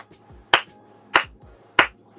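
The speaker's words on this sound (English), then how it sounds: "Let me clap it up for Jordan Poole, bro." Three separate sharp hand claps, evenly spaced about half a second apart, close and crisp with brief decays, with low background rumble between them and no talk.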